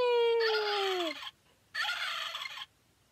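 A turkey gobbles twice in a Thanksgiving children's program, two clear, close rattling bursts with a short pause between them, the first preceded by a falling whistle-like tone.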